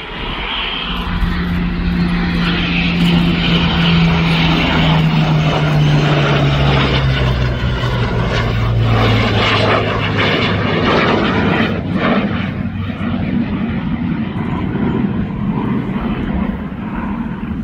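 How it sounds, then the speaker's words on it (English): A Spitfire LF-5B propeller aircraft of the 402 Royal Canadian Air Force squadron flies overhead at an air display, its loud steady engine drone shifting in pitch as it passes. "those Spitfires included the very one that we see flying on here in the front of the 402 Royal Canadian Air Force squadron"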